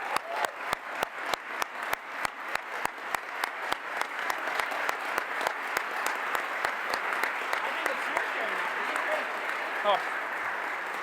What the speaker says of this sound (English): a big round of applause for our 2 astronauts that are going to mark Canada's history in space